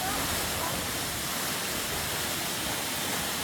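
A waterfall at Ghorepani, Nepal roars as a steady, dense wash of falling water, loud and close, with no break in the sound throughout.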